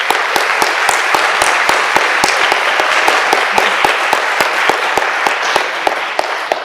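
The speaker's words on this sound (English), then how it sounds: "So I think this deserves an applause" Sustained audience applause fills a university lecture hall at a Belgian space event, a dense steady wash of many hands with sharp individual claps popping out repeatedly, loud and continuous without talk.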